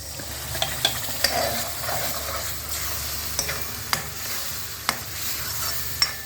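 Dal is tipped into a simmering, sizzling pot of varan for chakulya, giving a steady bubbling hiss with scattered light clinks and stirring taps throughout.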